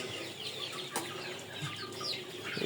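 Chickens at a poultry farm during cold winter weather cluck and call continuously over a steady farm background, with one brief sharp burst near the start.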